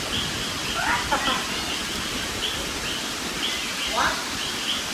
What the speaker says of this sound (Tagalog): Anong huni ng ibon